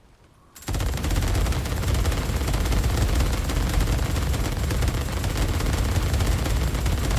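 After a brief quiet start, a suppressed rifle in the Days Gone video game opens up in sustained rapid automatic fire, a loud, unbroken dense burst that continues to the end.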